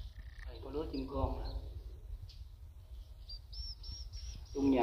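High, thin chirps of baby swiftlet chicks inside a swiftlet bird house in Chợ Lách, Bến Tre, heard as faint scattered peeps over low rumbling room noise, with someone speaking briefly.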